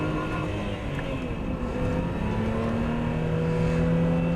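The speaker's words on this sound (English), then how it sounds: "The supercharged engine develops over 300 brake horse, and it's there all the way through." A supercharged engine of over 300 horsepower in a classic British car drones steadily at high revs, a deep sustained roar with rising harmonic tones as it pulls through the gears, loud and close.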